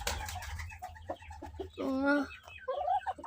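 A hen clucks and squawks in agitated bursts, loudest in a long rising cackle midway, over a low background rumble with faint voices.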